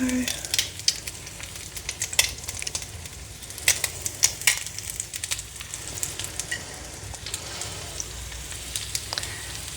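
Salmon patties sizzle loudly and steadily in a hot frying pan, a close crackling hiss with frequent sharp spits and pops and a few faint utensil clinks, with no speech.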